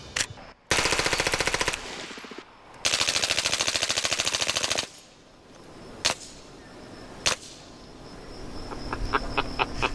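A suppressed MP5SD submachine gun fires subsonic rounds in two long, rapid automatic bursts, followed by a couple of single shots and a short run of quieter clicks, close and without speech.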